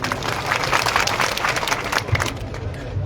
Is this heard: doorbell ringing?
no